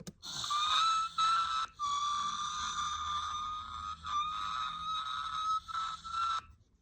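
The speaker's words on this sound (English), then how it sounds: "Squeaking door, innit?" A squeaking door sound effect: a long, whistle-like creak repeats in several drawn-out squeals with brief gaps, shrill and close, with no talk over it.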